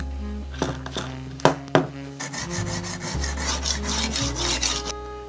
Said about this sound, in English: I am moving the knife around a lot to kind of like utilize the entire stone